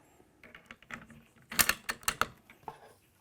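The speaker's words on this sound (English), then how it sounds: "Put in our bolt." Bolt sliding and locking into the action of a Bergara B14-R precision rimfire rifle, a quick run of sharp metallic clacks and clicks up close, louder in the middle, with no voices.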